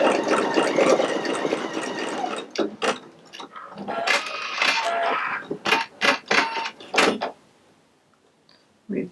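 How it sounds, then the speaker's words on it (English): A Pfaff Creative Icon 2 embroidery machine stitching ribbon in the hoop, giving a dense mechanical whir followed by a series of short, clattering stitch bursts that stop and start. A voice may be present. "Go ahead and start the machine after it's folded."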